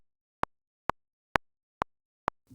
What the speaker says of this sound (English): I don't like Logic's stock click. It sounds like this.